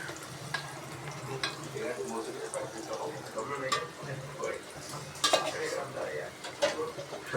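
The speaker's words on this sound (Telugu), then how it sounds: "ఇప్పుడు ఉల్లిపాయ వేగుతుంది ఫ్రెండ్స్." Onions frying and being stirred in a pan with turmeric and curry leaves, with sizzling under scraping and clinking of a utensil against the pan and a few sharper knocks, close by.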